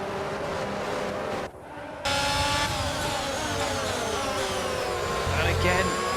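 Formula 1 race cars in F1 22 race at the Bahrain Grand Prix, their engines giving a continuous high whine with shifting pitch, heard under a commentator's voice.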